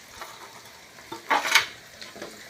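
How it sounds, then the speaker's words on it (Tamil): Onions and dried red chillies sauté in a pan for chicken pallipalayam, giving a soft, steady sizzle with stirring scrapes and a louder burst of hiss midway, with no voices. "வரமிளகாய் போட்டு சும்மா ஒரு 2 நிமிஷம் வணங்கினா போதும்"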